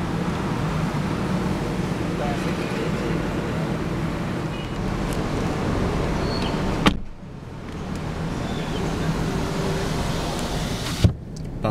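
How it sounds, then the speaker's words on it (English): Power folding mirrors on a 2010 Volkswagen Golf TSI whir as their motors run, each fold ending in a short click near seven and eleven seconds, heard close inside the car over low background hum. "Power folding mirrors."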